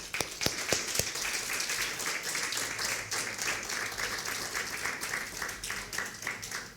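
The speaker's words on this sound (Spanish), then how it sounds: "¿Le podrás dar un aplauso?" Church congregation applauding during a sermon, a few sharp early claps building into steady, moderately loud group clapping that continues evenly throughout.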